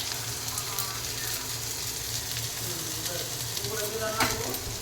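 Bitter gourd, pointed gourd, okra and potato frying together in a pan, giving a continuous dense sizzle with occasional stirring clicks and a faint voice in the background.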